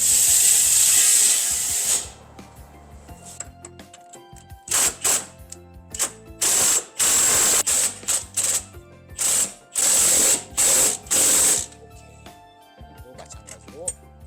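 A ratchet loosens and then retightens the suspension bushing bolts on a car's underside, giving bursts of quick mechanical clicking that repeat in short sets with pauses between them. The clicking is close and fairly loud, and a voice talks at the start.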